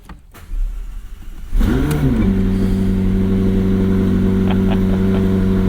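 A 2024 McLaren 750S twin-turbo V8, 740 horsepower, fires up from cold. A crank and a sharp rising flare are followed by a loud, steady high idle that holds without talk.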